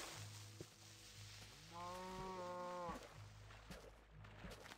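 A cow moos once in Minecraft Beta 1.6.6, a clear, drawn-out tonal low that lasts about a second, set against a quiet game ambience with a few faint clicks and thumps.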